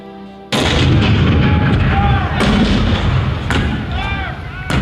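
Cannon fire in a staged recreation of the 1861 Fort Sumter bombardment, a heavy roaring barrage starting abruptly after a short quiet lead-in and carrying on loud and continuous, with sharper booms standing out and faint distant cries mixed in.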